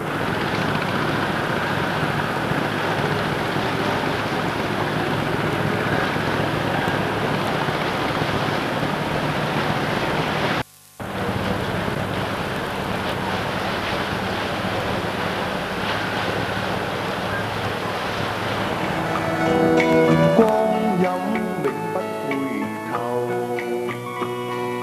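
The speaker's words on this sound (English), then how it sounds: "The hustle and bustle of all boats and ships and water transport of all shapes and sizes scurry back and forward across the" Hong Kong harbour with boats and ships crossing: a continuous wash of water and wind noise, briefly cut out near the middle, with tonal sounds rising over the churn toward the end.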